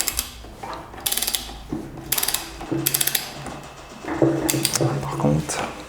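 Nut on a Peugeot 205 GTI gearbox being tightened with a ratchet wrench, close bursts of rapid metallic clicking in several strokes, with someone speaking briefly between them.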